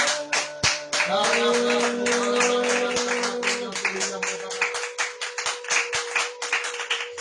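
A church congregation claps in praise, sharp rhythmic handclaps beginning under a sustained tone and then continuing alone, steady and moderately loud.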